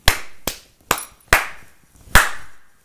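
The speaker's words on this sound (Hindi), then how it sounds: "वाह तालियां" Five separate sharp hand claps ring out one at a time at uneven intervals, each crisp and close with a short decay, no voices between them.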